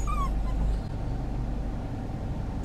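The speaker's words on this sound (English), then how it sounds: "Listen to Charger's crying. Why are you crying? You want to get out?" A miniature dachshund whimpers and cries inside a car, with a few brief high whines near the start over a steady low engine and road rumble.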